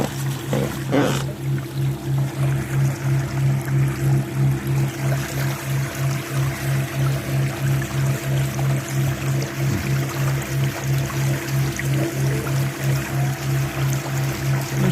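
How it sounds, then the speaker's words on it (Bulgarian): An outboard motor on an Aqua Marina inflatable boat drones loudly and continuously with a pulsing, throbbing hum, water splashing and rushing along the hull underneath. "Шумничък този мотор малко в водата"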